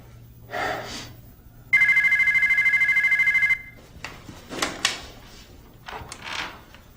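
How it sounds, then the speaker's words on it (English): A telephone bell rings once in a sustained electronic trill lasting about two seconds, with people speaking before and after it in an indoor scene. "Danny, pick up the phone"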